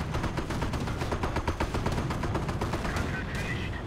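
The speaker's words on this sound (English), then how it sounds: "Oh no, that's the mortar." Dense battle gunfire and explosions in Company of Heroes, with mortar fire among rapid machine-gun bursts and booms, continuous and mid-distance, with a voice talking over it.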